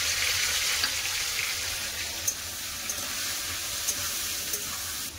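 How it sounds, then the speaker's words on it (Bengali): Frying with salt and turmeric in a pan, a steady soft sizzle with a few faint clinks of a utensil, no talking. "এবার ঢাকা দিয়ে ভেজে নেবো।"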